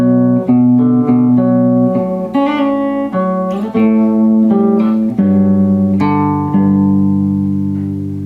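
A guitar fill built from a hammer-on and pull-off, played as a steady run of ringing, evenly voiced notes over about eight seconds, close and clean with no voice.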